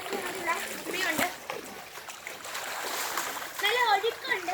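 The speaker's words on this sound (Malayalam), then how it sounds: "ഇവിടെ ഇങ്ങോട്ട് ഒഴുക്ക ഭയങ്കരം." Strong floodwater current rushing across a flooded road, a steady broad wash with a brief splash, while people talk over it throughout.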